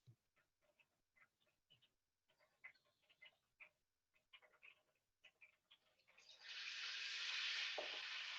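Battered walleye pieces, tail and belly, go into hot oil. Scattered soft ticks and taps come first, then a loud, steady sizzle swells up close and keeps going.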